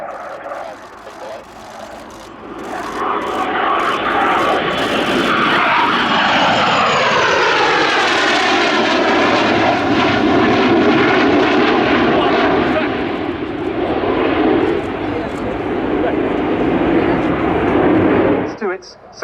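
Pair of French Navy Rafale jets flying a display at Yeovilton Air Day 2017, a loud roaring jet pass that swells, sweeps down in pitch as it goes by and then cuts off, with a commentator talking over it.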